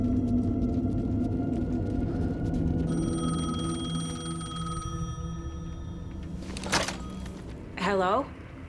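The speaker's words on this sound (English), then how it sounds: "phone was ringing" A telephone rings in the video game Alan Wake 2, with drawn-out electronic ringing tones layered over dark ambient game sound, followed by a few sharp clicks and a rising warble near the end.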